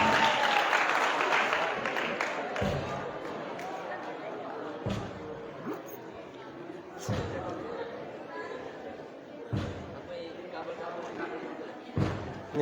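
Applause from participants in a Ramadan study session practising funeral rites, a brief burst of clapping at the start that gives way to crowd chatter, scattered thumps and bumps, and voices talking.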